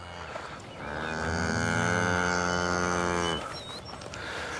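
One cow on a farm gives a single long, loud, close moo lasting nearly three seconds, with quiet background before and after.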